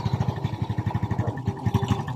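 A Kymco Visar 110 motorcycle, just refitted with its stator after an intermittent running fault, fires up and settles into a steady, fast-pulsing idle close by, with no voices over it.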